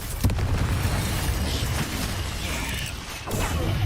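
A Confringo spell explosion goes off in the Hogwarts Legacy video game, a loud blast followed by rumbling, crackling debris and mechanical clatter, with a few sharper bursts layered into a dense, continuous wash of game noise.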